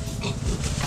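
A pig grunts and oinks close by in its pen, a steady rough snorting over continuous background noise, with no talking.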